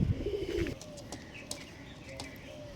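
A pigeon of a fancy breed gives a soft, low coo at close range, followed by a few faint chirps and quiet rustles in an otherwise calm space.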